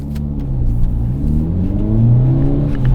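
A 2023 Hyundai Elantra N pulls hard under acceleration, its loud, close engine note climbing steadily in pitch over a continuous throaty rumble, with no talking.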